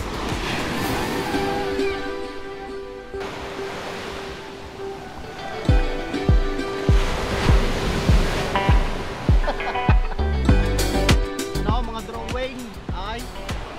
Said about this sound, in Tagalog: Nandito na kami sa dagat.